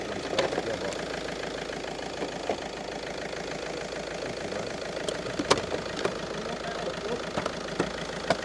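A cheap used car's engine idles steadily nearby, a constant mid-low rumble with faint ticking and a few sharp clicks or knocks scattered through, running on its own without talk.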